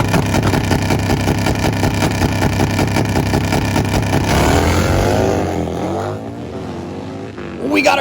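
Drag racing motorcycles, one running a Max ECU tune, blare loudly with dense steady engine harmonics before rising, sweeping revs as they launch down the strip and fade into the distance.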